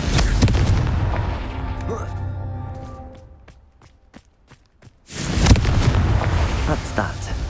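A Confringo fire spell from Hogwarts Legacy detonates with a deep boom amid game sounds and chatter, followed by scattered sharp cracks in a quiet stretch and then a loud burst of blast and debris.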